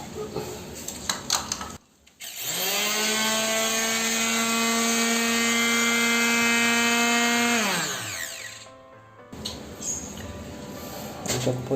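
A homemade power sander switched on, spinning up fast into a steady, loud high-pitched whine that holds for several seconds before winding down, with rattling handling noise before and after.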